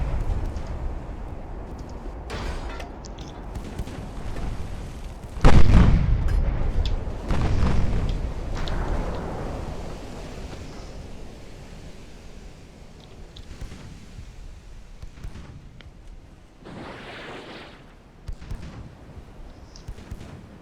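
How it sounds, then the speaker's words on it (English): A torpedo hit in the naval warship game Ultimate Admiral Dreadnoughts lands as a deep, heavy boom, followed by a rumbling roll and a few lighter thuds and blasts fading away over several seconds. "I heard a torpedo."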